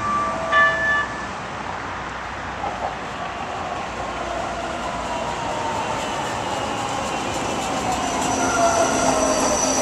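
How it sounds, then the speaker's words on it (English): The first Expo Line train pulls into Culver City Station with wheels squealing over a steady rail rumble, loud and close, with no talk over it. "The train to Culver City Station is arriving."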